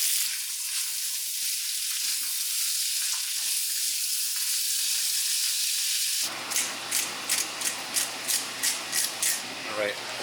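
Butter sizzles in a pan with sweet corn, salt and pepper, a soft steady frying hiss that turns louder midway, followed by a run of rhythmic scraping or stirring strokes.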